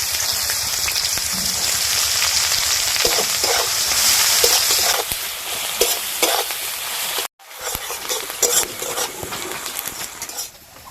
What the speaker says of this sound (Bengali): পেঁয়াজ একটু ভেজে নিয়েছি